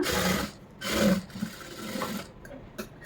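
A sewing machine stitches a lining blouse in short whirring bursts separated by brief pauses, the bursts close and moderately loud with faint handling sounds between them.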